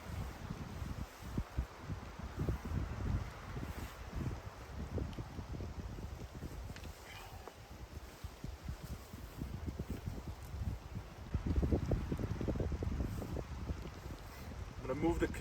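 Strong gusts of wind buffet a lakeside campsite on an Algonquin canoe trip, a continuous rough rumble with rustling and microphone buffeting that swells and eases, loudest near the end.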